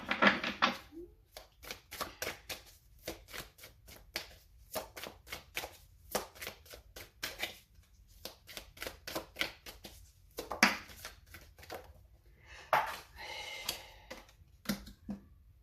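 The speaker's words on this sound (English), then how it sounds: "Let's go ahead and shuffle this really quick." Tarot cards being shuffled close up, rapid bursts of crisp riffling clicks in repeated runs, separated by short pauses and faint handling sounds.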